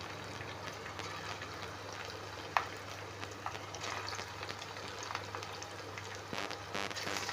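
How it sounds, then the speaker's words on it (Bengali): Coconut fritters made with flour and rice flour sizzle steadily in hot oil, a soft continuous crackle over a low hum, with one sharp knock partway through and no talk. "বড়াগুলোকে দিয়ে দেবো তেলের মধ্যে"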